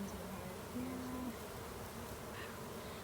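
Honey bees buzzing at an apiary hive, a steady close drone with one louder bee passing briefly near the start, continuous and moderately soft.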